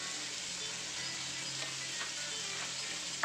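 Salmon steaks fry in a pan with a steady, even sizzle that stays constant throughout, with no one talking.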